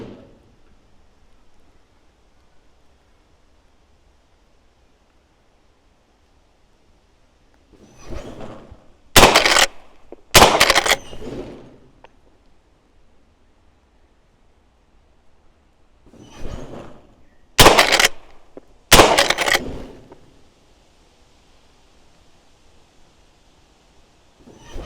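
Rifle shots at a gallery rifle timed match, two pairs of sharp loud reports spaced apart, each followed by brief rustling and movement on an otherwise quiet range.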